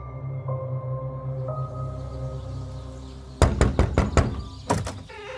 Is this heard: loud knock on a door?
yes